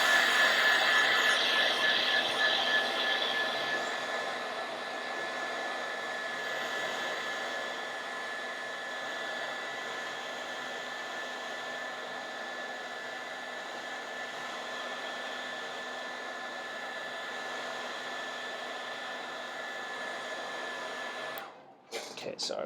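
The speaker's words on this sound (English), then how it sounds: "you may hear a huge gust of wind now because I'm grabbing the hairdryer" A handheld hairdryer drying fresh paint roars in a steady, loud airy drone for about twenty seconds, then cuts off abruptly with a brief clatter.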